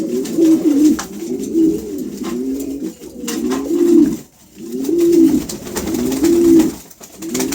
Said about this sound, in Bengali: এখানে একজোড়া হাঙ্গরি হাউস পিজন আছে